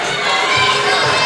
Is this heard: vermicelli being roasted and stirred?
no